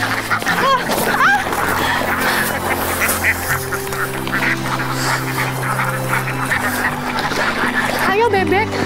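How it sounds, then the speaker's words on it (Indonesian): Ducks quacking and honking in a village pen, loud and close, with several birds calling over a busy background where people talk. "Ayo, bebek."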